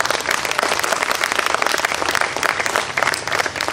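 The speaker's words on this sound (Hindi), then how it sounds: "मैं चाहूँगा कि एक भरपूर ताली डॉक्टर प्रधान की" A concert audience at a Navras School of Performing Arts music festival applauds. Full, continuous clapping stays loud and fairly even throughout, with no talking over it.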